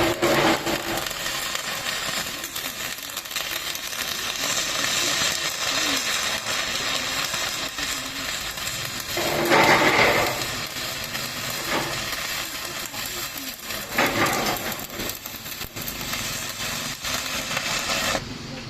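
Arc welding with a number 10 rod on an Xcort MM-305H DC inverter welder, a steady crackling sizzle that runs for the whole stretch, with a couple of brief louder surges and no talking.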